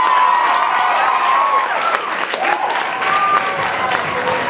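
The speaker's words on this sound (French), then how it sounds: "On l'applaudit." An audience at a comedy show applauding a comedian, a loud, steady wash of clapping with some cheering, close and sustained for the whole stretch.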